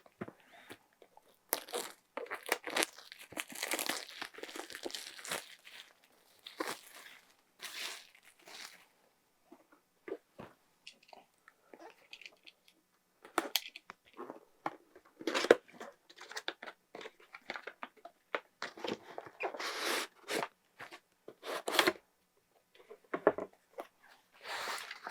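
Packaging for a 14TB Seagate external drive is handled during unboxing, with close, intermittent bursts of crinkling, tearing and crunching of cardboard and plastic separated by brief quiet pauses.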